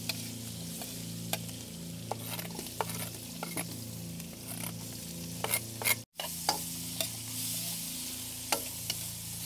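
Garlic sizzles steadily in a hot pan while a utensil stirs and scrapes at it with occasional sharp ticks, close up and with no talking.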